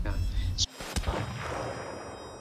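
A single gunshot rings out in an anime police shootout scene, a sharp close crack followed by a decaying echo over a dramatic background score.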